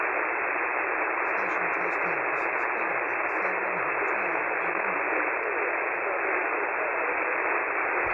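A weak single-sideband voice signal sent at 5 watts QRP comes through a Yaesu FT-101MP ham receiver, a muffled, barely readable voice buried in loud, steady static hiss.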